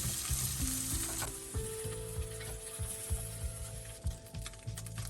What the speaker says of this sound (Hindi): इसे भी हम 2 मिनट फ्राई करेंगे। ये भी फ्राई हो गया